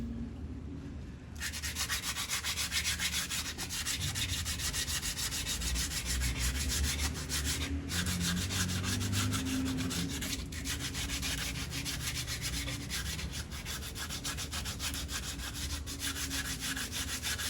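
Rust being sanded off a 2004 Toyota Matrix brake caliper, a continuous close scratchy rubbing with rapid rhythmic strokes that runs steadily for most of the clip after a brief quieter start.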